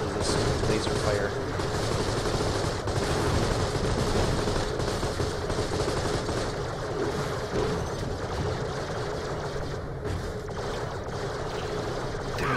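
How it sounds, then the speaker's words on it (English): Continuous laser fire and combat noise in the game Borderlands: The Pre-Sequel, a steady dense rattle with no breaks, sitting at moderate level beneath the other game sounds. "They're not vulnerable to this laser fire."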